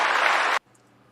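A crowd's burst of clapping, loud and dense, cuts off abruptly after about half a second, leaving near silence.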